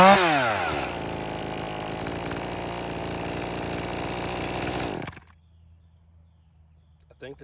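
An Echo 2511T chainsaw with a plugged catalytic muffler runs rough, its loud, close engine roaring steadily for about five seconds before cutting off to near silence.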